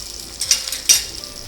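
Rava dosa frying in oil in a pan, a steady soft sizzle with two brief louder crackling bursts, close and alone without talk.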